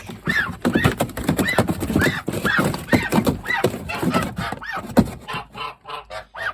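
Geese honk in a rapid series of loud, nasal calls close by at a backyard goose house, several birds overlapping before the calls thin out near the end.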